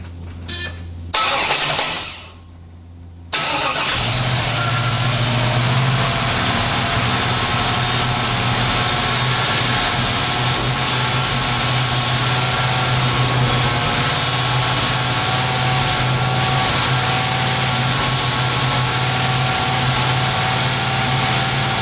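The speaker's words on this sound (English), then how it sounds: "So here we go, first fire, 68 Camaro." A 1968 Chevy Camaro fires up for the first time after a brief cranking burst and short pause, then settles into a loud, steady, rumbling idle close by.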